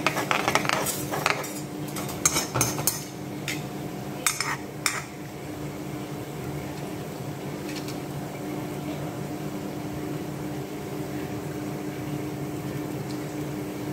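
Prawn thokku fries and splutters in a pan: a steady, low sizzle, with a few sharp clinks of a utensil against the pan early on.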